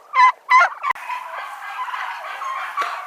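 Turkeys gobbling inside a sheep shed used as their night house, two loud close gobbles in quick succession, followed by a lower ongoing murmur of birds with a further faint gobble near the end.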